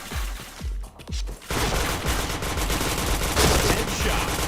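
Gunfire in the shooter game Point Blank: several sharp single shots at first, then a sustained loud burst of rapid automatic fire, close and dense, with no talking.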